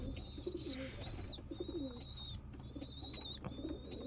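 Andhra Kalsira pigeons coo in low, repeated throaty calls close by at a pigeon loft, mixed with a few high chirps and faint background activity.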